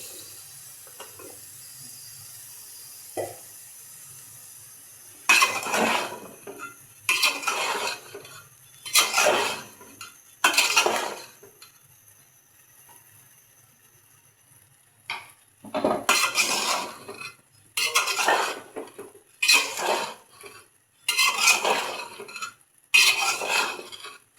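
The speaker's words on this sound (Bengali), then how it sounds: "ভালো করে নেড়ে দিলাম।" Bottle gourd stirred into a village-style shing fish curry in a metal pot, giving repeated bursts of scraping and clanking at an even rhythm, close and fairly loud, with quiet pauses between strokes.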